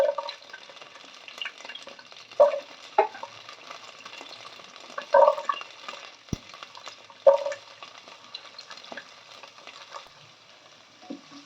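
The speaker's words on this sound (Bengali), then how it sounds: "এবার বিনস আর গাজরটা একটু হালকা করে ভেজে নেব।" Beans and carrots frying lightly in ghee, a soft steady sizzle broken by a few louder stirring scrapes and clinks from a spoon in the pan, with no one talking.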